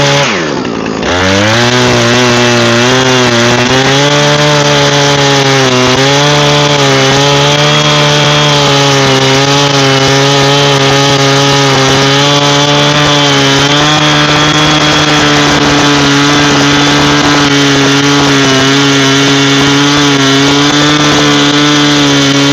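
A Husqvarna chainsaw cutting logs runs loud and close, its engine holding a steady high-revving snarl for the whole stretch after a brief start, with no voices.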